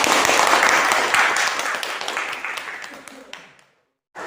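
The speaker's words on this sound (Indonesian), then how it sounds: "Tepuk tangan dong." A classroom of children claps together in a noisy burst of applause that gradually thins and fades out, followed by brief silence and a voice starting again.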